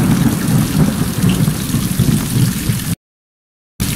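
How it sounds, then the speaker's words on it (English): Steady rain with rumbling thunder in a stormy sound effect, loud and continuous for about three seconds before a sudden cut to silence, then resuming. "Suddenly, it starts raining."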